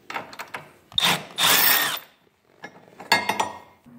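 A power tool whirs in short bursts while taking out the holding bolt of a 150cc motorcycle's center stand, with a sustained run in the middle and brief mechanical clatter around it, close by.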